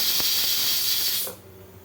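A pressure cooker cooking lentils lets out a loud, steady hiss of escaping steam. The hiss cuts off abruptly after about a second and a half, leaving a quiet room hum.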